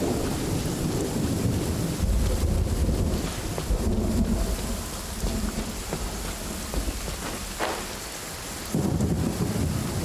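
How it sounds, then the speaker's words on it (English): Heavy rain pours down in Genshin Impact with rolling thunder, a dense continuous downpour that swells and eases, loud and close with no voices. "Quite a downpour."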